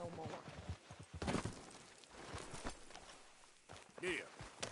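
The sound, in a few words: horse hooves in Red Dead Redemption 2 video game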